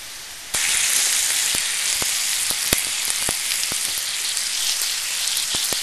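Rice browning in a hot pan for a green tea risotto sizzles loudly and steadily from a sudden start, broken by frequent sharp crackles and pops close by, with no voices.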